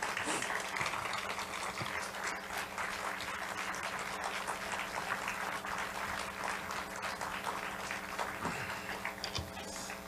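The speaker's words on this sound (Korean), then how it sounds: "큰 박수로 환영해 주시면 감사하겠습니다" Church congregation applauding to welcome the pastor before a sermon, continuous crowd clapping held at an even level over a low steady hum.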